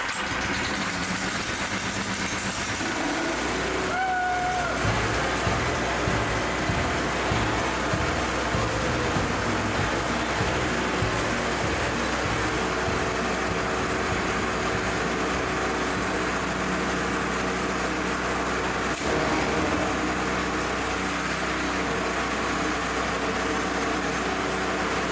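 A newly swapped Trac Vac engine on choke runs at a steady idle, a loud close mechanical drone with a low rumbling hum and vibration that holds for the full stretch with only a brief catch near the start.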